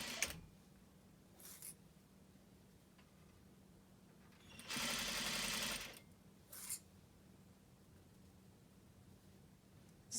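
A sewing machine stitches binding on a pot holder in short separate bursts: a few brief back-stitch runs around one longer run of about a second, faint, in a quiet room.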